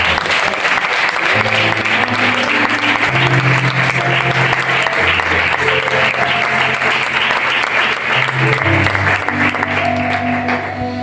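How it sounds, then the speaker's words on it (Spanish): A church congregation applauds for the Lord during a sermon, steady dense clapping sustained for the whole stretch with sustained keyboard or organ chords playing underneath. "Yo hubiera dado un aplauso al Señor"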